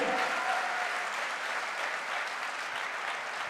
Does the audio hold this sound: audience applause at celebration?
yes